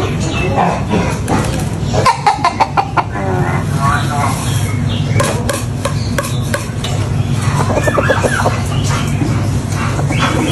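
Chickens cluck and squawk close by in a busy yard, with people talking over them throughout and a dog briefly barking.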